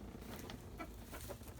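Hens in a backyard coop cluck softly at close range, a few short, quiet calls scattered over a brief moment with no talk.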